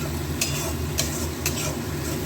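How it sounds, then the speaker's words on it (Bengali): Tomato and masala paste frying in oil in a pan, a steady low sizzle with a few soft scraping strokes of a spoon stirring at regular intervals. "একটু কষানো হোক, টমেটোর কাঁচা ভাবটা একটু গেলেই ঝোল দিয়ে দেবো"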